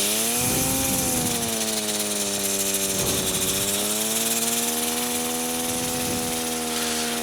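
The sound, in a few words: small airplane engine revving to start moving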